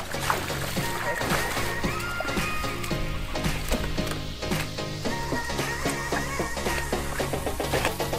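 Water gushes strongly out of a siphon pipe drawing from a deep river, a steady loud splashing and sloshing rush with irregular spatters throughout.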